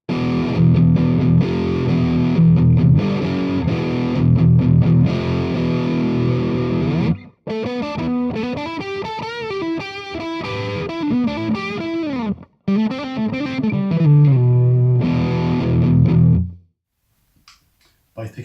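Electric guitar on the bridge pickup with high-gain distortion, loud chugging chords and then a run of fast single-note lines with short gaps before a closing chord that cuts off into silence.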